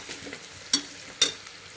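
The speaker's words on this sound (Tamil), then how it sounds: "நல்லா வெங்காயம் நல்லா வதங்கணும்" Onions and green chilies sautéing in a pan with a bay leaf, a low steady sizzle broken by two sharp scraping stirs of a spatula, with no talking.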